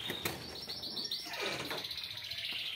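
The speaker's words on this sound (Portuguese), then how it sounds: "os canários tá detonando no canto" Canaries in individual cages in a home aviary, singing with bright, rapid chirps and trills that overlap steadily at moderate volume, with no talk.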